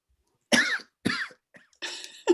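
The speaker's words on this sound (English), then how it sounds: "James takes a swig. He coughs." A person coughs four times in quick, harsh bursts after a swig from a flask, close and loud with short silences between.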